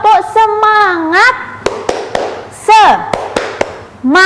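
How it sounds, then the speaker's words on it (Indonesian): Primary-school class performing the rhythmic "tepuk semangat" clapping routine, with sharp claps in a quick patterned sequence between a teacher's sung and spoken lines. "Ayo kita tepuk bersama-sama ya."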